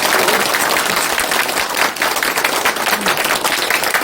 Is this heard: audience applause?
yes